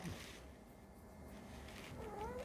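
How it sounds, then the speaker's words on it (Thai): A cat walks past quietly and gives one faint, rising meow near the end, after a brief soft sound at the start, all over a low room hum. "มีแมวตัวหนึ่งเดินผ่านมา"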